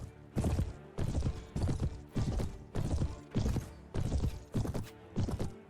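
Horse hooves gallop in the video game Mount and Blade: Perisno, about eight even, heavy thudding beats repeating at a steady rhythm, close and clear with no voices over them.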